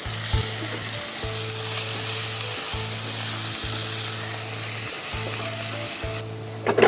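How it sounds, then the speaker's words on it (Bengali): Beef rezala masala frying in a pan, with steady close sizzling while it is stirred and garlic paste goes in, a low hum running throughout and a few louder clatters near the end. "এটা একটু নাড়া দিয়ে আমি রসুন বাটা দিচ্ছি"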